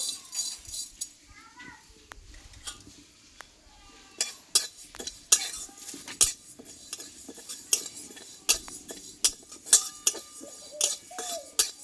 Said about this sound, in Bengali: এবার এই শুকনো কড়াই আমি কিছুটা মুগ ডাল আমি ভেজে নেব